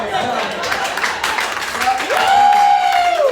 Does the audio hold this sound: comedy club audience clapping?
yes